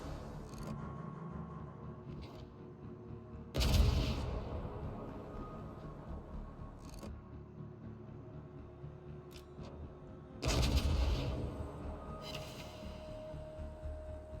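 Naval gun salvos firing high-explosive shells in a warship video game: two loud, booming broadband blasts roughly seven seconds apart, each fading over a few seconds above a steady rumbling engine and sea background.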